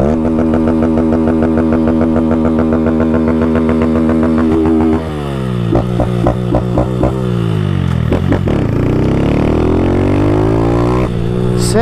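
Honda Fan 160 motorcycle with a Fortuna aftermarket exhaust, revving loud and close with steady engine drone, then rising and falling through gear changes with sharp throttle blips, no talk over it.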